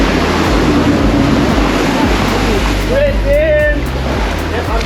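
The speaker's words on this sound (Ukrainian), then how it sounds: "Зараз прилив, вода підпливає максимально високо вже." Waves washing onto a tropical beach at high tide on the Similan Islands, a continuous loud surf rush with a low boat engine hum beneath and a person speaking over it.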